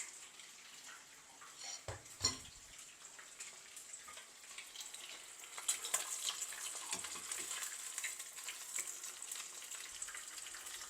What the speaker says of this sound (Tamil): இந்த சிக்கன் ஃப்ரை ஆகுது.